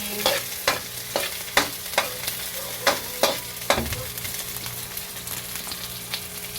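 Garlic and onion sauté in a hot pan for squash in coconut milk with dried fish, a steady sizzle broken by repeated sharp scrapes and clacks of a spatula stirring, close up with no talk.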